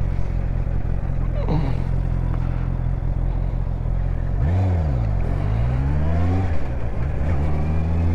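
A Honda CB650R motorcycle engine revs and pulls away with rising and falling pitch, loud and close, the roar shifting through gears.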